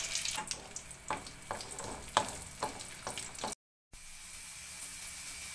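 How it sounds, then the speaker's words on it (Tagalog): Rambutan seeds dropped into hot oil and frying, a steady close sizzle with repeated crackling pops, briefly cut to silence before the sizzling carries on more evenly. "Ayan, prituhin na natin. Mainit na ang ating mantika."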